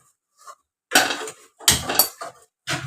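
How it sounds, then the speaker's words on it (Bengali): A wok (kadai) being set on a gas stove: a few sharp metallic clanks and scrapes, close and brief, separated by short silences. "প্রথমে কড়াইটা বসিয়ে দিলাম বসিয়ে দিয়ে আমি গ্যাসটা জ্বালিয়ে দিলাম"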